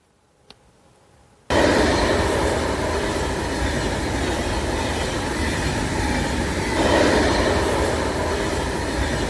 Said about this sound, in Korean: 여러분과 제가 함께 달리고 있는 열차 안입니다